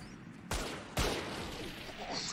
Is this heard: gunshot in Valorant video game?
yes